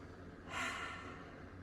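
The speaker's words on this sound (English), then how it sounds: "take a big inhale through your nose and a big exhale through your mouth" A single deep breath, drawn in through the nose and let out through the mouth, comes as a soft, close rush of air that rises briefly and then fades into quiet.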